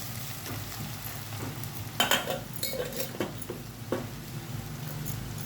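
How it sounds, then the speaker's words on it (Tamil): Flattened rice (poha) tipped into a pan of sautéed potatoes, with a steady low sizzle and a few scattered scraping, stirring clatters partway through, close and alone with no voices. "அதுக்கப்புறம் இந்த அவுல் வந்து நம்ம இப்படியே போட்டுருவோம்."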